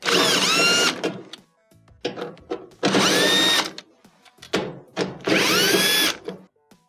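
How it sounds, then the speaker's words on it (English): Power screwdriver backing three screws out of the rear panel of a Whirlpool electric dryer, heard as three separate high whirring bursts of about a second each, close and loud, with short clicks and handling noises between them. "To remove the console, we're going to take 3 screws out of the back panel."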